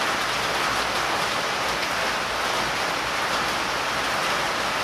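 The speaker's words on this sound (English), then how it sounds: "Now it's raining again" Steady rain falls on a backyard beside a swimming pool, a dense, even hiss of countless drops that fills the whole clip without letup and with no voices.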